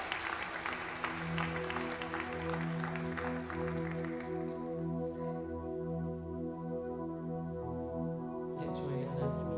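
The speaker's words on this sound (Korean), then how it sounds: "하나님께 박수로 영광을 올리겠습니다" Church congregation applause at a Sunday worship service fades out over the first few seconds and gives way to sustained organ or keyboard chords that ring on alone afterward.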